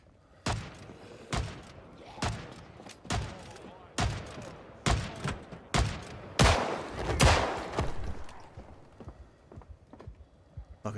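Gunfire comes through a wall in the Project Zomboid video game, about a dozen loud, sharp shots spaced irregularly, with a tighter burst near the end and no talk.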